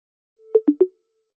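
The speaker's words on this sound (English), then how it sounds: "The ringing." A short electronic phone ring: a low steady tone broken into three quick pulses, clear and alone against silence.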